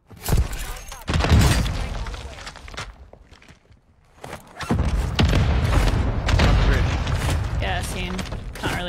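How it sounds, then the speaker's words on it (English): Mortar strikes land in a video game firefight, heavy booming explosions with crashing debris arriving in bursts, loud and close over continuous game noise. "Mortar support incoming!"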